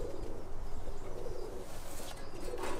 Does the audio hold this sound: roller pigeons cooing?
yes